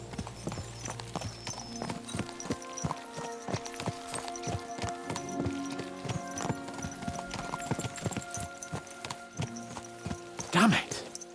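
Horses ridden in Kingdom Come Deliverance 2 clip-clop along at a steady pace, hooves close and clear, with a brief neigh near the end and voices talking over the hoofbeats.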